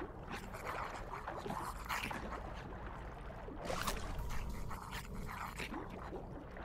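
A fish in the video game I Am Fish makes yappy, whimpering dog-like noises in short repeated bursts, like an angry little poodle, over a constant watery game background.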